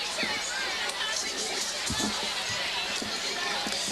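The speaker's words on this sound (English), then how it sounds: "if you hear non-stop crowd tonight, keep in mind, we are on a jam-packed Big Red side of the field" Constant crowd roar from a packed home-side grandstand at a high school football game, a dense wash of cheering and chatter with scattered shouts, loud and unbroken throughout.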